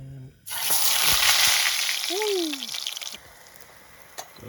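A hash brown patty fries in a pan, a loud steady hiss and bubbling sizzle that cuts off partway, leaving a quieter crackle with a brief tonal sweep in the middle.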